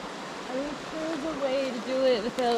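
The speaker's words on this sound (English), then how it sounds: "we gotta cross this river again" Shallow river water rushes and babbles steadily on a rainy Appalachian Trail crossing in the Grayson Highlands, a soft constant wash under a person's voice.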